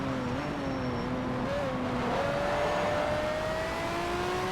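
Pagani Zonda R engine in Need for Speed: Shift on PS3, a steady loud mechanical drone whose pitch dips and climbs as gears change down, continuous throughout with no talking.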